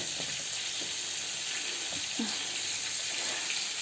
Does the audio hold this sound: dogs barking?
no